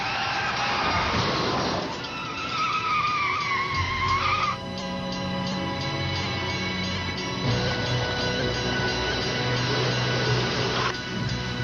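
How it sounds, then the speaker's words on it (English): Tires screech loudly as a car brakes hard, a long skidding squeal that bends in pitch, followed by engine rumble and another drawn-out skid. "She made this aggressive stop."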